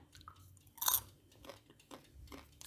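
Homemade popcorn popped with Blue Band margarine is chewed close up, with a sharp crunchy bite followed by several softer, irregular chews in a quiet room.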